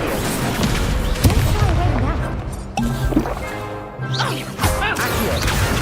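The Incendio fire spell is cast in the video game Hogwarts Legacy, producing crashing, booming combat effects under busy game sound, with a player talking over it.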